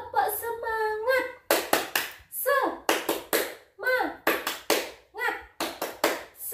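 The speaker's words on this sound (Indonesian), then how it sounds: "biar tambah semangat lagi, kita tepuk semangat" Children perform a rhythmic spirit clap (tepuk semangat) in a classroom, sharp grouped hand claps alternating with chanted voices in a quick call-and-response pattern.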